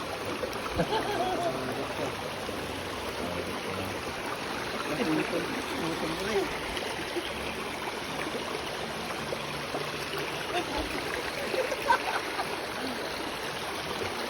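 River water flows and burbles continuously, a steady stream-like rush with small splashes, no voices heard over it, in rural Infanta, Quezon.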